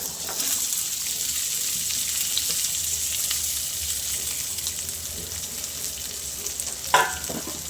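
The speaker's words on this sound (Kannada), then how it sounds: "ಬಟಾಣಿ, ಬೀನ್ಸು, ಕ್ಯಾರೆಟು, ನೌಕೋಲು ಅಂದರೆ ಗೆಡ್ಡೆಕೋಸು ಇಷ್ಟನ್ನ ಫಸ್ಟು ಎಣ್ಣೆಲಿ ನಾನು ಫ್ರೈ ಮಾಡ್ಕೋತೀನಿ" Peas, beans, carrot and kohlrabi frying together in oil for a restaurant-style kadai veg, giving a steady, even sizzle throughout, with a brief sharper scrape of stirring near the end.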